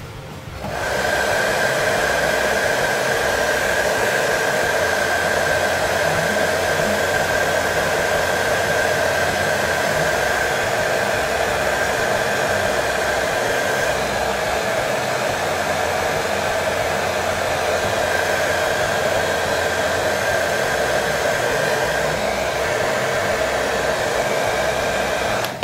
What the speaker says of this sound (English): So let's use the air dryer.